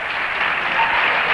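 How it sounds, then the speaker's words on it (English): Cheering section and fan club of Shrewsbury player Chris Brown applauding at a high school basketball game, a dense, steady wash of clapping and crowd noise that holds loud and even throughout, with no distinct voices above it. "you can hear his cheering section, his fan club"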